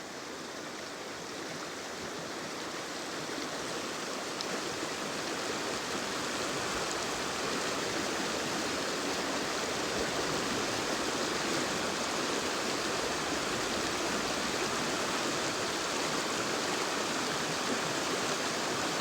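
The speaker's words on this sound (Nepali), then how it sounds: "सबैले काली खोला भन्ने गर्छन् तर खोला चाहिँ सेतै छ" Kali Khola river, a stream running white, flowing in a steady, soft wash of water that swells slightly and then holds even for the whole stretch, with no talking.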